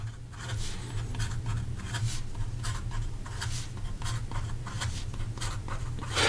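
Fast handwriting with a Pilot Custom 823 (Custom Heritage 823) fountain pen, its slightly sharp nib scratching across paper in quick rhythmic strokes, close and steady over a low background hum.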